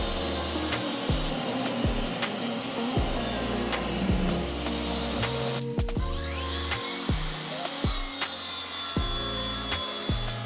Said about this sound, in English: Then I cut to size the two pieces of the legs.